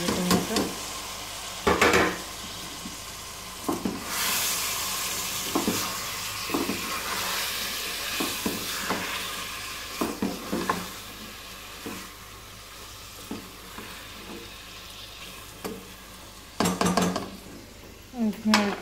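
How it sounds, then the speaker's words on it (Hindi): Tomatoes frying in a pan give a soft sizzle while a spoon stirs and scrapes against the metal in repeated knocks, with someone talking at times. "अब मैं इसमें ऐड करने लगी हूँ टमाटर, मैं ऐड करने लगी टमाटर।"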